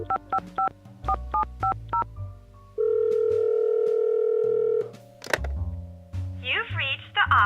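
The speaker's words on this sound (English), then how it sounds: "Maybe I should try out this phone number." Phone number dialed in the Nancy Drew game Lights, Camera, Curses!, heard as a quick run of touch-tone beeps, then a long steady tone, a clunk and a burst of ringing.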